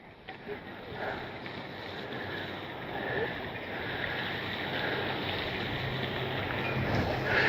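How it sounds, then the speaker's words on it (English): Steady outdoor wind buffeting the microphone beside a bass pond during a fishing trip, a constant broadband rush that builds slightly louder toward the end, with no voices. "we do have a little bit of wind to contend with right here"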